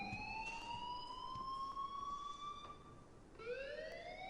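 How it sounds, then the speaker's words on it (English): An alarm siren wails in the Life is Strange video game, rising and falling in loud, steady sweeps that restart partway through. "please turn off that alarm since that's your job"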